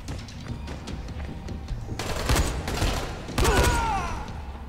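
Gunfire from a weapon in the zombie game Dying Light, heard as rapid bursts of shots with dense crackling volleys and thumps, firing in clusters close and loud.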